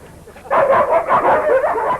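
Greyhounds let out a burst of loud, close barks and yips in quick succession after a brief quiet start, with no speech over them.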